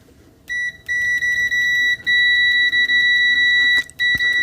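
Loud, high-pitched continuity beep from an ANENG 623 multimeter sounding in long sustained bursts with brief gaps and a few clicks, close by.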